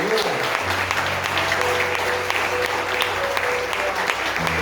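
A congregation gives a round of applause during a Sunday morning church service, a loud, sustained wash of many clapping hands with a low held organ or keyboard tone beneath.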